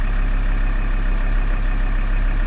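A car engine idles with slightly wavering revs, its worn injectors in need of cleaning after a snapped drive belt, a loud, steady low drone close by with no talk over it.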